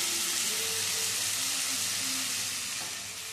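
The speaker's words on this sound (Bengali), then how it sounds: "পেঁয়াজটা একটু লাল করে ভেজে নিতে হবে।" Onions sizzle in a pan, frying steadily as they brown for a greens paturi dish, a close, loud crackling hiss that stays constant and fades slightly at the end.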